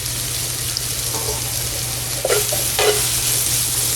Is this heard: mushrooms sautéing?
yes